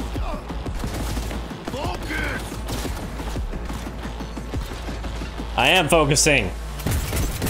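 Rapid gunfire in the video game Cyberpunk rattles steadily through the whole stretch, with a louder burst near the end, while a player talks and shouts over it.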